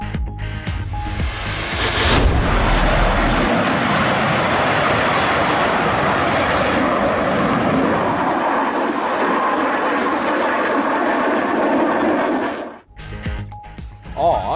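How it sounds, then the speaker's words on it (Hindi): A JF-17 Thunder fighter jet roars past at the Paris air show, a loud, sustained broadband rumble that swells in and holds for about ten seconds before cutting off, with a news voice around it. "पाकिस्तानी लड़ाका तैयारे की घन गरज ने अपनी धाक बिठा दी।"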